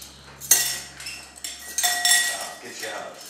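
Meat being mixed with a spice blend in a bowl for carnitas, with several sharp clinks and scrapes of a utensil against the bowl, close and irregular over a quiet background.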